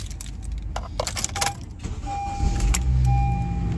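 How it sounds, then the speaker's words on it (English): A 2012 Honda Civic LX engine cranks and catches, settling into a steady idle hum, preceded by clicks and rattles from inside the vehicle. "Car starts right up, no problem."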